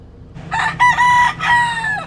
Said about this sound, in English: in the Keys, one thing that was ever present were the roosters.